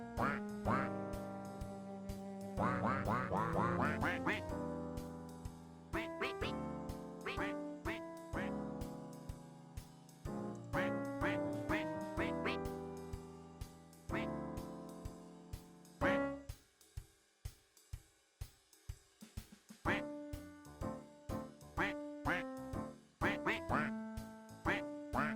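Quirky jazz music built from duck quack samples plays continuously, with dense rhythmic plucked and quacking notes, moderately loud and steady throughout, with no talking.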